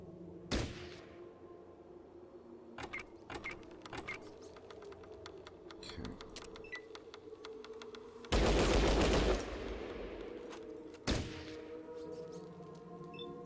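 Gunfire in the turn-based game Fallout Tactics rings out as sharp, scattered single cracks and short bursts. A dense, loud volley comes about two-thirds through, with quieter clicks and shots before and after.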